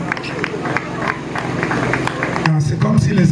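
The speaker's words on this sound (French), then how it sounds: "C'est comme si les applaudissements diminuent." Applause from a crowd at a podium inauguration fading away, loose scattered clapping with murmuring, a voice speaking over it as it dies down.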